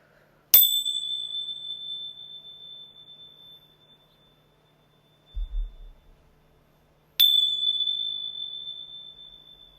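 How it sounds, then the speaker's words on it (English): Ritual bells struck twice, each giving a bright, sharp attack and a long ringing pure tone that fades slowly over several seconds; a soft low thud sits between the two strikes. "I'm going to ring my bells really quickly as well"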